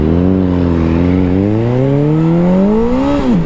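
A Suzuki B-King motorcycle accelerating hard from a standstill in a 0 to 60 run, its loud engine note climbing steadily in pitch before dipping briefly at a gear change.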